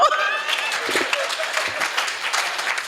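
Applause from a crowd at a Hindi comic poetry gathering, steady and fairly loud throughout, with voices faintly audible underneath.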